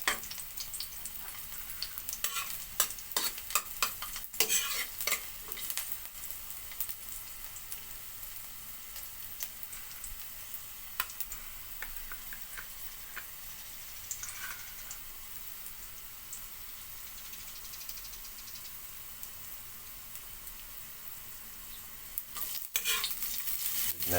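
Onions frying with golden-browned garlic in a pan for sardines in tomato sauce, a steady sizzle broken by scattered clicks and scrapes of stirring, busiest at the start and again near the end, with no voices.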